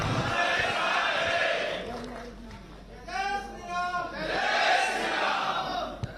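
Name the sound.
crowd cheering and clapping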